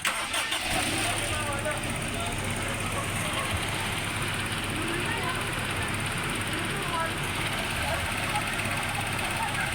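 Vehicle engine turning over and starting, then running with a steady, broad rumble that fills the clip at close range, with people talking over it.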